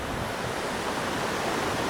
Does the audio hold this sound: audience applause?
no